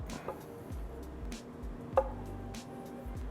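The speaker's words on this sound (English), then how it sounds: "So we're gonna chop these guys up." A knife chops through peeled hard-boiled eggs on a board, giving soft, irregular thuds with one sharper knock, quiet and close with no talking.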